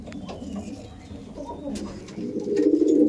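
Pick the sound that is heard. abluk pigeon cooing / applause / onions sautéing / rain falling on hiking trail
abluk pigeon cooing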